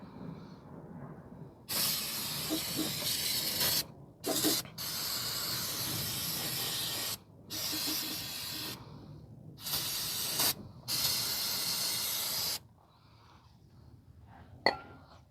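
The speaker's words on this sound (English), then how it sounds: "spray a generous amount so you get everything clean" Brake cleaner sprayed over a 2017 Nissan Pathfinder 3.5 engine: several long, loud hissing bursts of a few seconds each, separated by short pauses, close to the can, with a quieter tail at the end.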